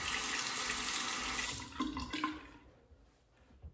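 Hot tap water running into a sink while a safety razor is rinsed, a steady hiss of flow that breaks up with splashy changes partway through, then shuts off into near quiet with a faint drip.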